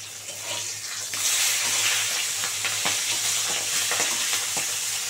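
Loud, close hiss of a hilsa fish head frying in hot oil, rising after the first second, with occasional crackles and spattering pops throughout.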